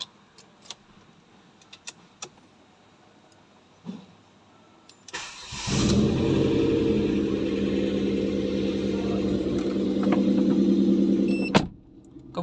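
A 2012 Ford Fiesta 1.6 S automatic with an aftermarket exhaust is started after a few faint key and cabin clicks, then idles steadily and loudly for several seconds before cutting off; no one talks over it.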